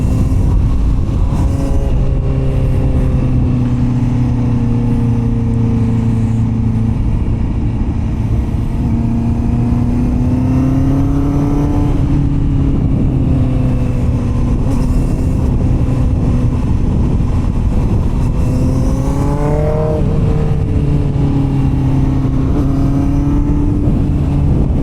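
A 2024 Honda CBR650R motorcycle sweeps through winding curves, its four-cylinder engine droning loudly and steadily, pitch rising and falling as the rider rolls the throttle on and off.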